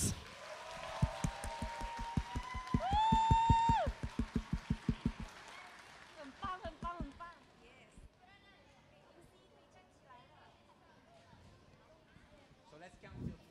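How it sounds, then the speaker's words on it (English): A crowd at a Chinese singing contest gives a round of applause for Miss Etiquettes, with loud, rhythmic clapping for about six seconds that then fades under an announcer's voice and background chatter. "give a big round of applause to our Miss"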